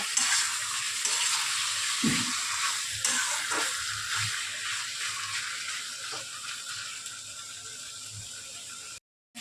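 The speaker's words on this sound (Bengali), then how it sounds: "এবার আমি চিকেনগুলোকে ভালো করে এর সাথে একটু ভেজে নেব" Chicken pieces frying in oil in a pan, a steady soft sizzle with occasional stirring scrapes and clinks throughout, fairly quiet and alone.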